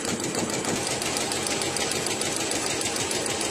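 A sewing machine runs slowly and steadily as it stitches batting-backed upholstery for a 1947 Ford truck, giving a close, continuous mechanical whirr with a rapid even needle rhythm and no talking.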